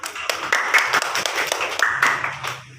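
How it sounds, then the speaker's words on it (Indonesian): A classroom audience at a role-play lesson claps hands, a brisk run of sharp, fairly close claps that tapers off at the end. "Ini bagus, beri tepuk tangan."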